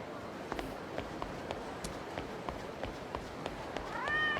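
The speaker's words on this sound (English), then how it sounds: "Cat." A cat meows in the Yakuza video game, a short rising call near the end over a backdrop of rhythmic in-game footsteps and street ambience.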